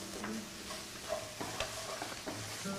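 Oil sizzling steadily while a utensil stirs and scrapes through frying garlic and ginger, with soft clicks against the pan.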